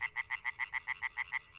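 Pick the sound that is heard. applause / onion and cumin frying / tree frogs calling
tree frogs calling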